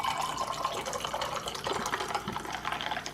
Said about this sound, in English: then we're gonna add the